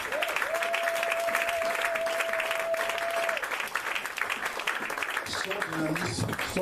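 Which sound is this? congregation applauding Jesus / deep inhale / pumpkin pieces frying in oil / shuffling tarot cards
congregation applauding Jesus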